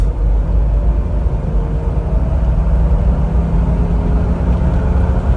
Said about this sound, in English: we'll do a pretty decent acceleration to go through the RPMs and put it under a little bit of a load